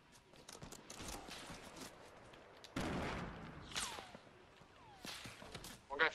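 Fortnite Battle Royale gunfire arriving as scattered shots and short bursts, one louder stretch in the middle and more around the end, with faint movement sounds between them; fairly quiet overall.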